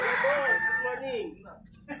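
A rooster at a chicken farm crows once in a loud, close, drawn-out call that fades after about a second and a half, followed by softer background clucking.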